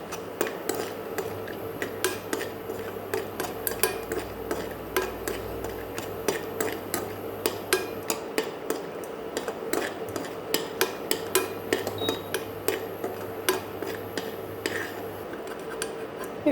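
Almonds lightly roasting in a pan while makhana kheer is being made, heard as a steady stream of small ticks, clinks and scraping stirs against the pan, close and continuous with a low hum underneath.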